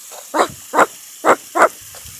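Voice imitating a dog bark: four rough, scratchy barks in a steady rhythm, close and loud, followed by a faint grunt.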